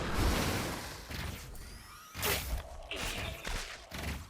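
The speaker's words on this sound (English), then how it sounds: "And that's the sound of an Exo dying." A chaotic burst of Stormgate combat sounds, whooshes, crunches and thuds, ending in a sharp crash as an Exo unit is destroyed amid ongoing battle noise.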